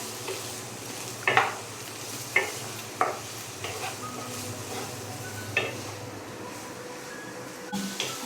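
Vegetables and a Maggi stock cube frying in hot oil in a pan, a low steady sizzle broken by several sharp stirring scrapes and clatters of the spoon against the pan.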